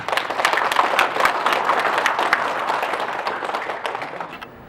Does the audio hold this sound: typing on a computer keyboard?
no